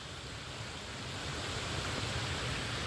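A waterfall and a small river flow in a forest in the Zhytomyr region, a steady broadband rush of water that stays constant and fairly close, with no voices.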